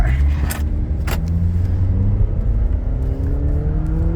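A Honda Accord G9 with a 2.0 engine on a stock exhaust revs hard, giving a loud, continuous, droning engine and exhaust roar close by. A couple of sharp clicks or knocks sound near the start.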